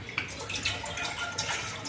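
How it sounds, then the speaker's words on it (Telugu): Water pours into a cooking pot on a stove, a short, close, continuous splashing stream with a few brief drips. "వాటర్ పోసుకున్నాం"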